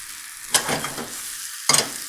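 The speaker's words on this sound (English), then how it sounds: "I'm going to go ahead and put the green onions in. Stir them around, just get them cooking a little bit." Green onions and mushrooms sautéing in a hot pan, a soft continuous sizzle broken by two sharp bursts of stirring scrape, close and clear with no voices.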